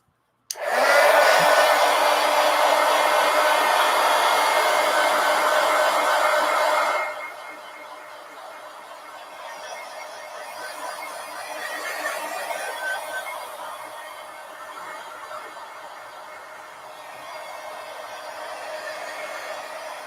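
A hair dryer blows on a mixed media collage to dry the paint, starting with a sharp click into a loud, steady roar for about seven seconds, then dropping to a softer, fluctuating whoosh that continues to the end.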